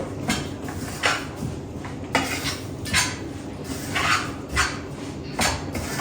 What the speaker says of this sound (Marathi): यामध्ये थोडासा वाटून घेतलेला दाण्याचा कूट तो पण ॲड करणार आहे मी पटकन आता आपण मिक्स करून घेऊ